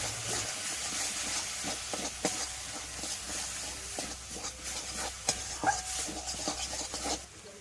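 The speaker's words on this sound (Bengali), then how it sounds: "হলুদ গুঁড়োর পেস্টটা দিয়ে এবার ভালো করে কষিয়ে নিচ্ছি" Oysters sauté with turmeric paste in a pan, giving a steady close hiss and sizzle broken by scattered clicks and scrapes from stirring, with no talking.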